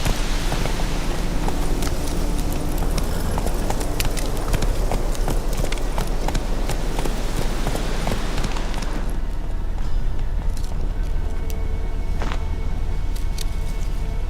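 Geralt's horse Roach galloping in The Witcher 3: Wild Hunt, a steady rapid clip-clop of hooves running continuously under game ambience, easing off toward the end.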